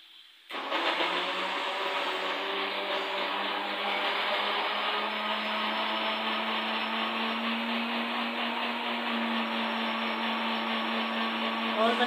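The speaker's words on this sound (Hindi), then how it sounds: "आप इसको ग्राइंड कर देंगे" An electric blender grinds garlic and mint for chutney, a steady loud whirring motor that starts abruptly and runs evenly without pause, with no voices over it.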